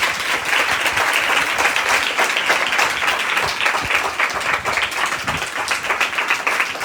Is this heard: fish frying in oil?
no